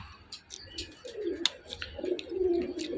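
Pigeons coo in low, soft, rolling throaty calls, several overlapping close by, with light fluttering, scratching and faint chirps scattered above them.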